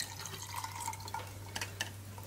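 A strawberry basil cocktail being poured, with a thin, steady trickle of liquid and a few small drips and splashes, close and fairly quiet under a low steady hum.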